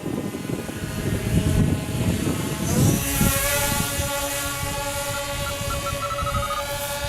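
Reptile Harrier S1100 radio-controlled model plane at full throttle, its propeller motor a loud sustained buzzing whine that shifts in pitch as it passes overhead outdoors.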